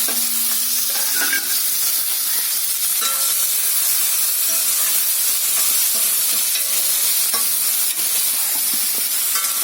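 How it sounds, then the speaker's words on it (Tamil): Small onions fry in hot oil in a pan and are stirred, giving a steady loud sizzle with occasional scraping and clinks from the stirring, close up and with no talking. "இப்போ சின்ன வெங்காயம் சேர்த்துக்கலாம்."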